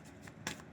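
Tarot cards are shuffled quickly by hand, producing two or three crisp riffling bursts of papery flutter close to the listener, with no voices.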